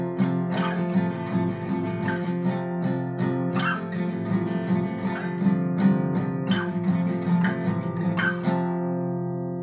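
An electric guitar tuned down a full step plays a short riff from a song, with sustained chords and sharp picked accents ringing out alone at moderate volume.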